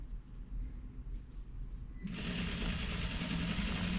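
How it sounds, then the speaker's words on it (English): A sewing machine stitches a quilt seam on a triangle hexie quilt. A brief quiet start with soft handling gives way to a loud, steady, rapid needle rattle that runs close and continuous to the end. "I'll sew the rest of the way down"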